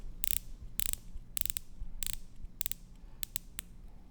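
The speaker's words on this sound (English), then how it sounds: "when you turn it, you can kind of hear that click, a nice strong clicking noise" The rotating bezel of a Tudor Black Bay 58 dive watch is turned, giving a run of crisp, close ratcheting clicks in quick clusters with brief gaps between.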